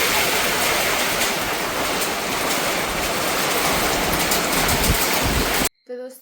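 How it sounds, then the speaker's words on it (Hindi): Heavy rain pours down with gusting wind, a dense, loud, continuous roar that stops abruptly near the end, followed by a brief moment of quieter sound. "देखो बाप रे, इतनी भयंकर बारिश हो रही है आगे साइड को।"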